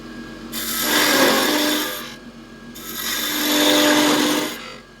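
Bowl gouge cutting wood on a lathe while a spin top is turned, two long rasping cuts that swell and fade with a short pause between, close and fairly loud.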